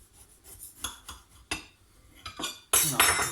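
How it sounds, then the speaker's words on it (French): A knife slices through a soft, economical snack cake, giving several close, separate scraping and clinking strokes against the plate, ending in a louder rustling cut. "je vais vous couper un petit morceau"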